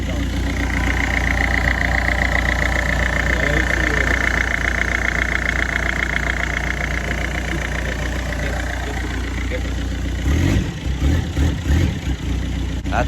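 A Citroën C3 1.4 HDi 75 hp diesel with a full 50 mm stainless steel exhaust line idles with a steady low rumble and clatter, then gets a few blips near the end while someone talks over it.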